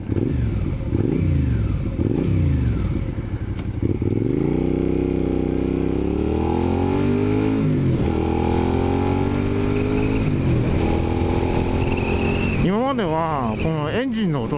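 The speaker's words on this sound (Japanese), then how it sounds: "排気音がブーンっていう排気音が聞こえますね" A Suzuki SV650 motorcycle with an SP Tadao aftermarket muffler drones steadily with rising and falling revs and gear changes, loud and close, ending in a quick run of revving.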